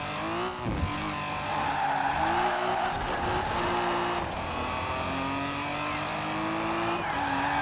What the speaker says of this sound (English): It's basically just drifting around all those corners after you got a handle of it